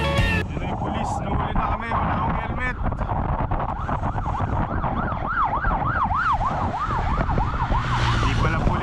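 An ambulance siren wails in a repeating rising-and-falling pattern over heavy road and traffic noise, growing clearer as it goes on.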